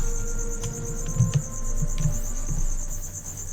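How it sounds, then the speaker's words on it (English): Crickets kept as feeder insects indoors chirp steadily in a high continuous trill, with a few soft knocks and low thumps underneath. "Them crickets just going to town."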